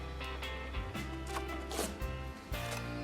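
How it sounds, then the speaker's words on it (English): Pieces of a Snow Peak cook set are pulled out and handled, giving a run of clattering, knocking metal contacts and scrapes at close range, irregular and fairly loud, with no talking. "Let me show you my cook set."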